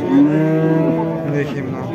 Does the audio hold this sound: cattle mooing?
yes